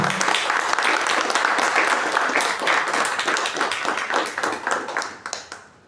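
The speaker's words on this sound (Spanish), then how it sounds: "Un fuerte aplauso para los dos." An audience at a Paraguayan literary anniversary event in Asunción applauds two young writers, a full, close burst of clapping that holds steady for several seconds and then fades out.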